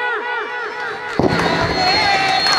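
Audience at a Marathi kirtan breaks into dense, steady clapping partway through, after a sung devotional line, and the clapping carries on loudly beneath the continuing voice.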